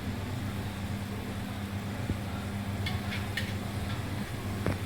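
Spices and mint leaves stirred in a pan for mushroom brown basmati pulao make a low, soft sizzle under a steady background hum, with a few light scraping stirs near the end.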